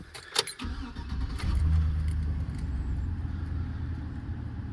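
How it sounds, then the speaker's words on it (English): A 2004 GMC Sierra pickup truck's engine cold starts after a jangle of keys and a brief crank, then settles into a steady, rumbling idle heard up close. "Quick cold start video for you."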